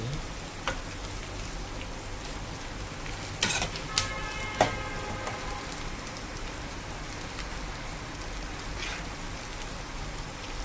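Steady sizzling of onions and tomatoes sautéing in a pan, with occasional scraping clinks of a utensil stirring, continuous and close.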